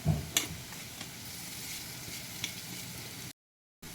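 Onion and chillies frying in a pan with turmeric and salt added, a steady close sizzle with a few sharp clinks of a spoon early on, then a brief silent gap near the end.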